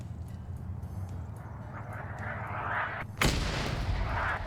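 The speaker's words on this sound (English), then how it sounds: "Mortar also firing." Mortar artillery firing in a multiplayer artillery video game, with a steady low battlefield rumble and a sudden sharp loud blast near the end.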